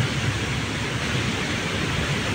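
Floodwater overflows past a flood control structure in a loud, steady broadband rush of churning water, continuous and close, with no talk.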